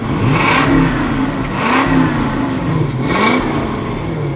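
A Toyota 4Runner V8 engine revs repeatedly, rising and falling in three or four smooth pulls, loud and close with a faint whir and clatter underneath.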